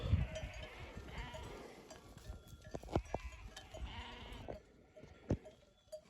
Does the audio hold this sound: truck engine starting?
no